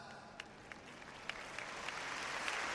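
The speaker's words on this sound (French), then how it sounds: "Un grand applaudissement pour nos frères vaillants" A church congregation applauding its pastors, a faint, steady patter of clapping that slowly swells toward the end, with a few sharper individual claps standing out.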